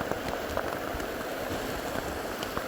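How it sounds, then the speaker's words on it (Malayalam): Rainwater rushes down the stone steps at Akashaganga waterfall in the Kolli Hills, Tamil Nadu, making a steady, dense wash of flowing water with scattered splashes and no voices. "മഴ പെയ്ത് മുകളിൽ നിന്ന് താഴോട്ടൊഴുകുന്ന വെള്ളം"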